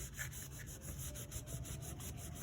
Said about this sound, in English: Rub some of that out.